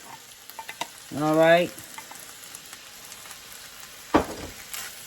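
Corn frying in a pan for corn pudding gives a steady low sizzle with stirring scrapes throughout, behind a brief spoken question and a sharp clatter near the end.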